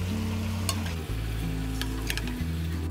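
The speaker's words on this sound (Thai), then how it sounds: "พอเราผัดจนหอมแบบนี้นะครับ" Ginger stir-fried in a hot pan, a loud continuous sizzle with scraping stirs and a brief clatter of utensil against the pan, close and without talk.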